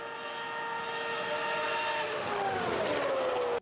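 Formula 1 race car with a V12 engine passing at speed, a loud high-pitched wail that holds steady and then drops in pitch as it goes by before cutting off abruptly.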